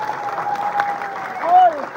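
Audience clapping at a live Calonarang ceremony at Pura Penataran Bale Agung temple in Katung village, Bangli, a steady spread of hands under a voice talking over it.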